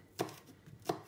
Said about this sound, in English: thin chopping, again using the claw, and to mince it properly